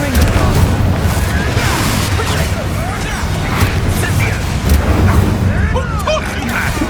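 Incendio fire spell blasts cast during a wizard duel in Hogwarts Legacy, a dense, continuous roar of booming, crackling impacts layered with combat noise and voices throughout.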